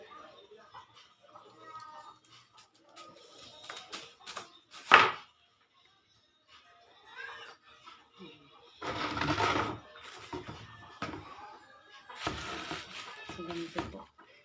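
A knife slicing string beans (sitaw), giving a few sharp, close cuts and short bursts of chopping between quiet gaps, while a person talks.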